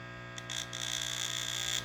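A loudspeaker driven straight from a transformer plugged into the wall outlet gives off a steady 60 Hz mains hum, a constant buzzing drone with harsh overtones and a couple of brief hissy bursts.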